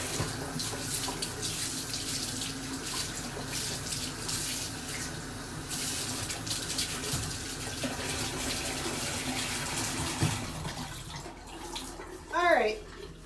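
Tap water runs steadily into a sink or tub for washing hair at home, a soft continuous splash and trickle with faint background voices, ending with a brief louder gurgle.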